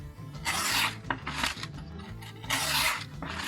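A cheap AliExpress scalpel blade rasps and scratches across a surface in short repeated strokes, close and fairly loud, with no voices.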